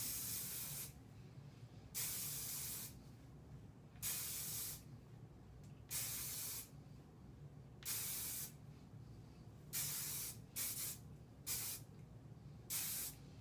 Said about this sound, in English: we're going to take our hairspray and spray it.